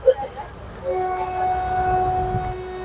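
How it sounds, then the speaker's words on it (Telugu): A Vande Bharat train pulls in at the next platform of a junction station. A long, steady horn tone holds over a low rumble of the train, and a few brief voices come at the start. "ఇప్పుడే వందే భారత్ ట్రైన్ వచ్చింది మా పక్క ప్లాట్ఫామ్ మీద."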